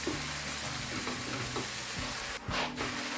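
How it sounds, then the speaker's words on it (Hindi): Chicken sizzles steadily with spices in a hot pan, with a few scraping stirs and a brief louder hiss near the end. "अब थोड़ा हम 2-3 मिनट इसको मसालों के साथ फ्राई कर लेंगे।"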